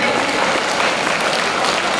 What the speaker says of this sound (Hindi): मनीष थालोड़ के लिए तालियां इतनी बजे कि आपकी रेखाएं बदल जाएं।